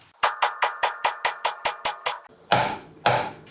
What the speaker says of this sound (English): We need to pound that out with a hammer or something